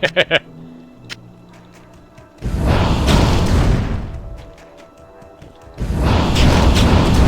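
An exploding monster bursts in the Diablo 2 video game: two heavy, rumbling booms a few seconds apart, each lingering before fading, with quieter game sounds in between.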